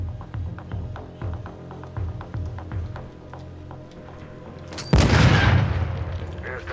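C4 explosive detonating in the video game Call of Duty MW II lands as a sudden, loud boom with a long rumbling tail, following several seconds of softer rhythmic thumps and game sounds.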